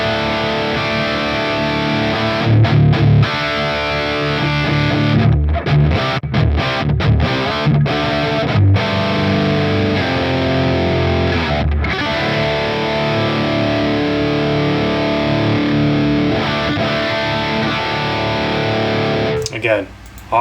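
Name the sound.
guitar amp tone from Helix modeler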